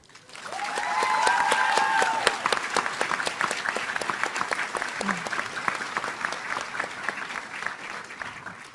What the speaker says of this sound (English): let's give a round of applause to the loved ones